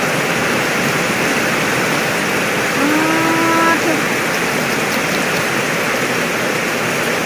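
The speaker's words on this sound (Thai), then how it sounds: "น้ำไหลหวาดเลย" A forest stream rushes strongly in a steady, loud wash of flowing water that fills the whole clip. A brief tonal voice-like sound rises faintly over it midway.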